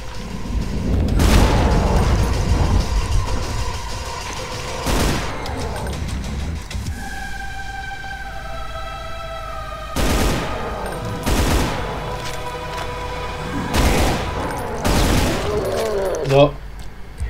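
Heavy in-game gunfire and booming shots from Brutal Doom, a loud burst early, then several separate blasts in close pairs later, with a tonal hum in between and a voice talking at times.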